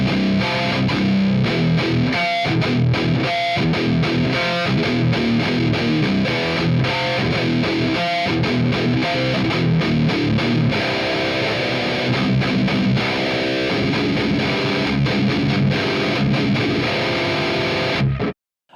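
An electric guitar played through a Marshall JCM2000 amp with a Fortin Tempest gives a heavy, saturated distorted tone, dense riffing with palm-muted chugs and sustained chords, loud and continuous until it cuts off at the end.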